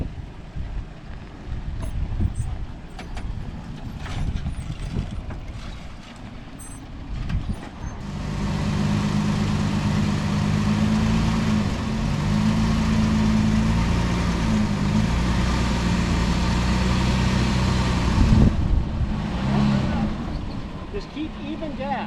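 A vehicle engine revs and holds steady under load for about ten seconds during an off-road recovery of abandoned vehicles, a loud, close, droning roar that rises out of background noise and outdoor talk, then drops away.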